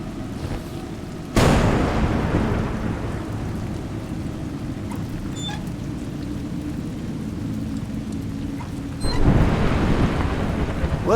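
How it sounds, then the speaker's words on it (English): Thunderstorm in the video game Juggler's Tale: two loud thunderclaps crack and roll out against a continuous wash of steady rain, heard without any talking. "It's raining."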